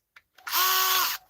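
A small hairdryer's screws are driven out with a power screwdriver, a single steady whirring burst of about three-quarters of a second, close and loud, with a faint click just before.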